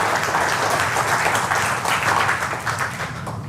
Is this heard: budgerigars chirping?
no